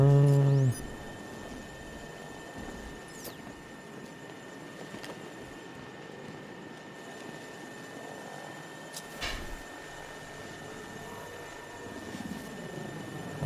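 Drone flying in Batman: Arkham Knight, a continuous whirring rotor hum with a steady mechanical drone throughout, moderately quiet, with brief swooshes and a sharper burst midway.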